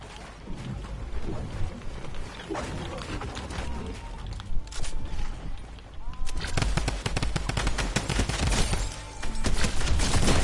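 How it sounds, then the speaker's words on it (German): Video game gunfire with hang gliders in the mix, rapid bursts and single shots crackling near and far over a steady background roar, with a voice talking over it. "Ich höre nur Schüsse und Hängegleiter."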